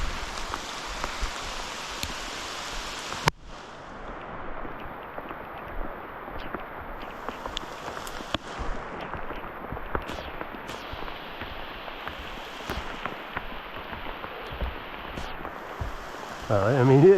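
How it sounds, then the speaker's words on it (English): Heavy rain pours down in a forest backcountry campsite, a steady dense hiss of drops on leaves and ground with occasional louder drips and taps, continuous and close throughout. "it is absolutely downpouring now"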